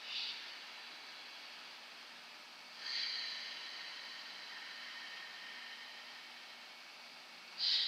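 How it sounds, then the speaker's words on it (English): Soft, hissy breaths drawn in and out through the nose with a slight throaty rasp, three gentle swells over steady quiet air noise. "a slight squeezing of the throat to make a sound as you breathe in and out"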